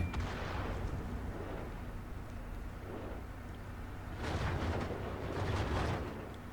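Tank cannon shots in World of Tanks on Xbox, a couple of heavy booming blasts with rumbling decay, one early and a louder burst later, with no talk over them.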